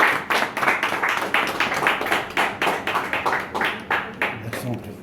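A French audience applauds after a demonstration, with dense, steady clapping that settles into a rhythmic unison beat, loud and continuous throughout.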